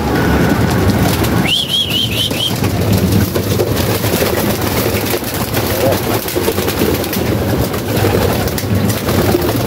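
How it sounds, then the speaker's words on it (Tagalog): Young pigeons are let out of their loft, with cooing and a brief, clear burst of bird calls over a rushing, fluttering wash of sound. A voice is also heard. "ito palalabasin natin yung mga young bird natin"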